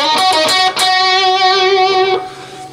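Electric guitar riff played through effects with light distortion: a few quick picked notes lead into a long sustained note with wide vibrato that rings out. The guitar is close and loud, with no talking.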